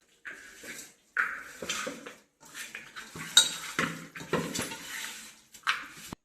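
A spoon scrapes and clinks against a pot in irregular strokes as mutton curry with tamarind leaves is stirred close up, with no talking.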